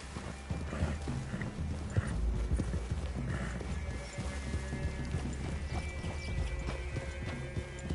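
Horse hooves clip-clop steadily over ground near a forest clearing, with an occasional whinny and low rustling in the background.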